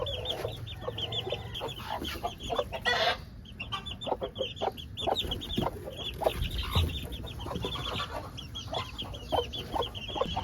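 A rooster clucks repeatedly in a backyard flock, short rhythmic clucks in a steady series, fairly near, over low outdoor background noise.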